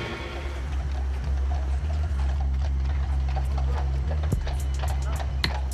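Horse hooves clopping on town-centre pavement in Beauvais, France, in a steady rhythm, heard over a low rumbling hum and a voice talking.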